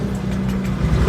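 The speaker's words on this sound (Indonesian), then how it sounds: "Bahkan kita nyalakan tanpa digas," A fuel-injected Honda Beat ESP motorcycle engine idles steadily with a low, even rumble up close, with no talking.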